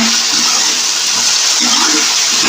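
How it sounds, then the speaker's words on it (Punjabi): Water pours steadily into a pot of rice being cooked at home, a continuous close splashing and rushing with no voices over it. "ਤੇ 5 ਗਲਾਸ ਪਾ ਦੇਣੇ ਪਾਣੀ ਦੇ"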